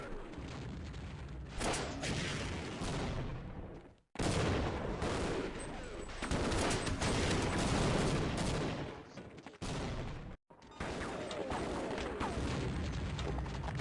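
An RPG rocket launcher firing in Half-Life amid heavy combat: booming blasts and rumbling explosions over a dense roar of gunfire, with brief drops to silence between bursts and a voice talking over it in places.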